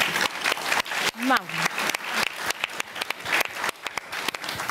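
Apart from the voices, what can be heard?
audience applause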